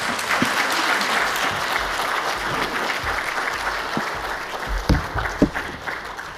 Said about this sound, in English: Round of applause, please, to the panel.